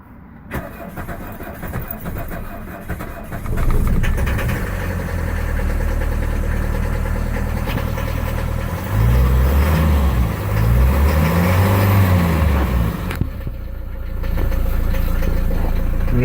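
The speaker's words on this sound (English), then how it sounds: "getting ready to do a cold start on the Mercedes 240D 1977 third glow cycle" A 1977 Mercedes 240D diesel engine cold-starts after glow cycles with the accelerator floored, cranking briefly before catching and settling into a loud, steady, rough idle with a rhythmic diesel clatter, recorded up close.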